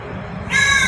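Crow in Ayodhya giving a single harsh caw, loud and close, which comes in after a moment of quiet background.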